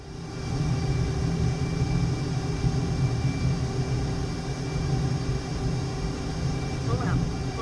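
An F/A-18E jet engine roars steadily at full throttle without afterburner in MSFS 2024, a constant loud broadband rumble with tonal whine layered over it, and a brief faint blip near the end.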